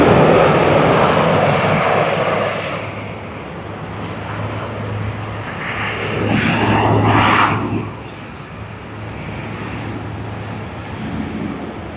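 A Boeing 777-200ER jet taxiing past at Sydney Airport, a loud, broad jet roar that eases, swells again as it passes and then fades, heard outdoors and fairly close.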